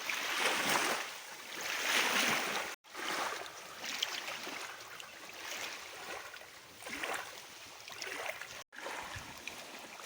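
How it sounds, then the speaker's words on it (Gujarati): Wind-driven waves wash against the bank of a dam reservoir, producing a continuous, fairly loud lapping and splashing that swells and fades in gusts, with no voices. "પાણી જુઓ હિલો સાથે છે"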